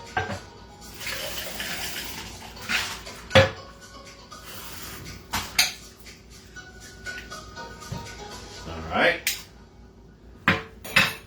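Cocktail bar equipment rinsed under running water, with clinks and clatters of metal tools and glassware against the sink, splashes from the tap, and occasional louder knocks, close by.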